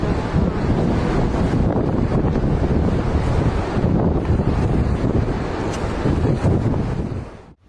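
Huge monster ocean waves breaking on a shore, a steady loud roar of surf buffeted by heavy wind noise on the microphone, continuous with no voices.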